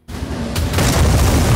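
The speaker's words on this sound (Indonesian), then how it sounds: "sebuah bom meledak melukai Fatih" A sudden deep boom erupts and rolls into a sustained, rumbling roar, loud and close, with no voices.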